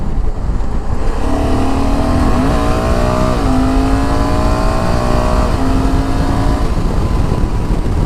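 A Honda Africa Twin motorcycle with automatic transmission accelerates hard while being ridden, its engine note rising in pitch through several steps over a constant loud rush of wind, with no voices.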